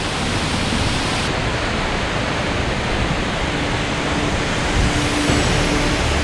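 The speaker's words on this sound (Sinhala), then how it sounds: "දියැල්ලේ උඩින් ගලන් එන වතුර පාර පහළ තියෙන මේ ගල්වල වැදිලා ඒක දූවිල්ලක් වගේ මේ අපි ඉන්න හරියට වාෂ්ප වෙලා එනවා" Duwili Ella waterfall near Neluwa, Sri Lanka, its water crashing onto the rocks below and throwing up spray: a steady, loud, broadband roar that fills the whole stretch without pause.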